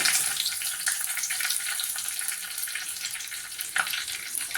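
Oil crackles and sizzles steadily as curry leaves fry in a hot pan, a dense hiss with a few sharper pops.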